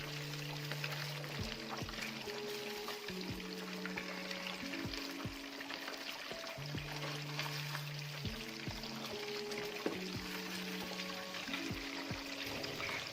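Fish fried Lahori style in hot oil, a steady close sizzle running throughout with intermittent clinks and stirring in the pan.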